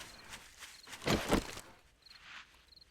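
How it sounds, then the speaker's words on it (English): Zombie horde footsteps in the game 7 Days to Die, faint scattered thuds with a heavier cluster of close steps in the middle, over quiet ambience and a recurring high chirp. "I hear multiple footsteps."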